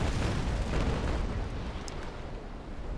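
Warship cannons firing a broadside in the Naval Action video game, a loud, continuous rumble of overlapping deep booms that swells early and slowly tapers to a heavy roar.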